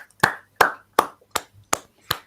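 Six sharp hand claps ring out one by one at a steady, unhurried pace, close and crisp against near silence.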